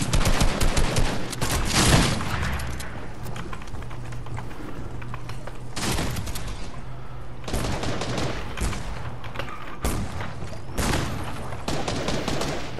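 Rapid bursts of Fortnite gunfire, including sniper shots, crack out loud and close in clustered volleys with short gaps between, over a steady game background.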